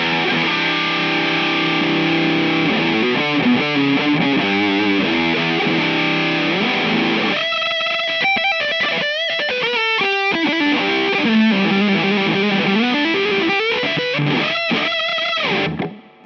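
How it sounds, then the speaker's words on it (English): High-gain electric guitar on the bridge pickup through an amp with scooped mids, playing a continuous heavily distorted riff with chugging palm-muted stabs, loud and sustained with no talking, ending abruptly. "Over to some higher gain tones now, and what I've done, I've scooped the mids on the amp"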